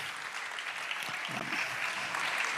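A church congregation applauds during a Christian worship service, a dense, steady patter of many clapping hands that fills the room without a break.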